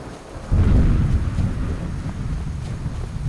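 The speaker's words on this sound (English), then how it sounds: "It sounds like there is a, thunderstorm, but the noises that the thunderstorm is making is like a loud booming noise." Thunderstorm in the Skyrim Special Edition video game, with a deep rumbling boom of thunder rising suddenly and rolling on steadily under wind and rain noise, no talking.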